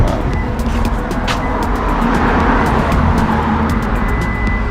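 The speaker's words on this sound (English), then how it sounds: "I'm going to turn off my car." A parked car's engine idles with a steady, even rumble that stays loud and unbroken throughout, with no voices.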